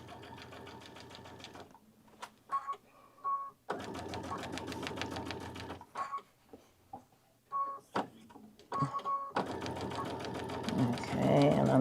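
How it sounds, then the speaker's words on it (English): A sewing machine stitches along the edge of a quilted tote, running in sustained whirring bursts broken by short pauses, close and clear, with a person talking between runs. "And then we're just going to sew right down along"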